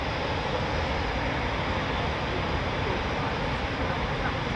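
A Eurofighter Typhoon FGR4, an old Tranche 1 airframe, at the RAF Coningsby quick reaction alert station gives off a steady, unbroken broadband roar that holds at the same loudness for the whole stretch.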